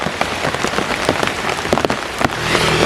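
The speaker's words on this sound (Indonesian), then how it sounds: "Ada hujan lagi." Steady rain pours down outdoors, drumming densely on a surface with scattered sharper drops, loud and continuous throughout with no talk.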